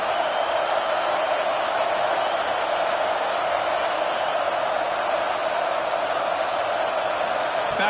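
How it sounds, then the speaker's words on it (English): A home crowd roaring loudly in a college football video game, a steady, dense wash of cheering that holds without a break. "how nice is it to have the home crowd going absolutely bananas?"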